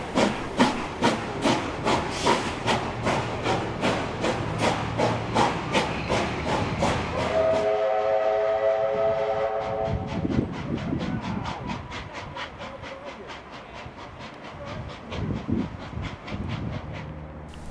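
Heritage train on a New South Wales line pulling away toward the Sydney Tramway Museum, steady rhythmic chuffing and clanking wheel beats, a hissing steam release midway, then lighter rhythmic rail clatter continuing, fairly close and loud with no talk.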